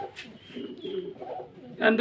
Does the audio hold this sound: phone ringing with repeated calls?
no